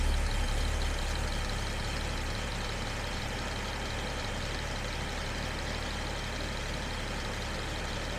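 A new engine in a Jaguar XJ6 idles steadily while the thermostat begins to open, a constant low rumble with a broad even hiss, heard close and alone with no speech.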